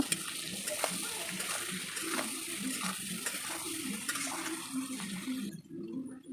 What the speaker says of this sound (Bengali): এখন একটু জল দিয়ে দেবো সেদ্ধ করার জন্য